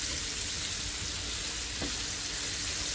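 Brussels sprouts sauté with bacon in a pan, giving a dense, even sizzle that holds steady and close, with one faint clink.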